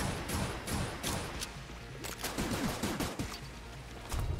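Rapid bursts of video game gunfire from Enter the Gungeon, with clustered sharp shots and thuds in an uneven rhythm, loud and close, with no talk.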